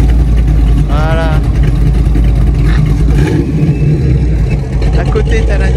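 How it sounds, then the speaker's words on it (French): A Ford Mustang GT500 at a car club meet rumbles steadily at close range with a low, continuous engine drone and a brief rise in revs, while people talk over it. "Et celle qui joue, c'est la GT500."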